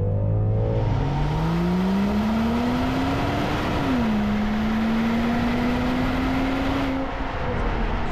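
A Land Rover Defender 90 SUV with a 395-horsepower engine launches hard, its engine note climbing steadily through a long pull with one gear shift, loud and close, with no talk.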